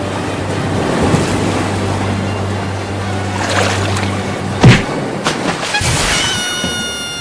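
A boat moves over water waves, with continuous rushing surf and wind. A few sharp splashes and knocks come near the end, and no one speaks.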